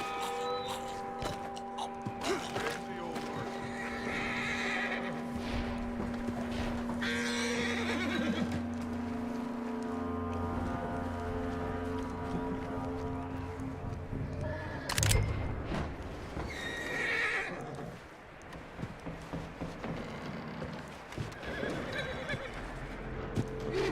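A horse in the Western video game Red Dead Redemption 2 whinnies and neighs repeatedly amid clip-clopping hooves and other ambient game sounds, fairly close and prominent throughout.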